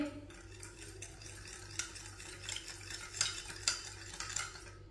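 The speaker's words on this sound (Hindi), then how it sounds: "नमक को मिक्स कर लेंगे" A spoon stirring salt into fresh lemon juice in a small bowl, with soft repeated clinks and scrapes of metal against the dish, close and fairly quiet.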